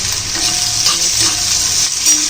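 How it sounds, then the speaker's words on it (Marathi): Onion sizzles and crackles steadily in a hot pan, loud and close, with occasional stirring scrapes and no voices. "कांदा चांगला फ्राय करून घ्यायचा आपल्याला"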